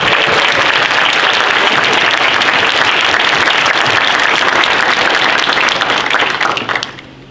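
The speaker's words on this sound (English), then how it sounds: "give you a round of applause as well" A conference audience gives a loud, sustained round of applause for research mentors at an undergraduate research conference, dense steady clapping filling the room before fading out near the end.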